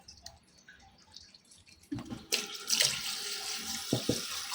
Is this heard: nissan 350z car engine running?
no